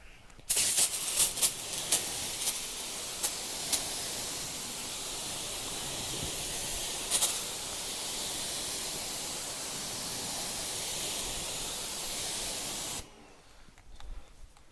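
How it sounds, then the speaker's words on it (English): A water rinse spray washes surface dirt off a car before snow foam is applied, a continuous loud hissing spray with a few brief spattering bursts, cutting off near the end into quiet. "So what you want to do first of all is rinse off as much of the surface dirt as possible."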